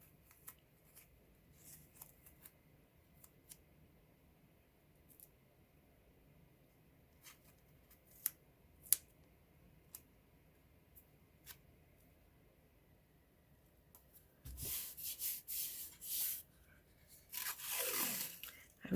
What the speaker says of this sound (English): So I'm just going to give it a tape down.